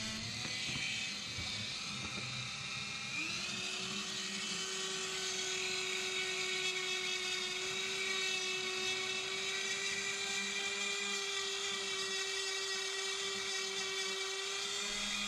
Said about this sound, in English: I'm using a polishing bit for the Dremel tool.